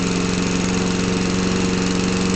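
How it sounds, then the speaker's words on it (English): A Geet engine running on a mix of corn oil, water and a little gasoline idles loudly and steadily nearby, giving a constant rapid low putter with a strong mechanical hum. "there it sits, right there, running on corn oil and water and a little bit of gasoline."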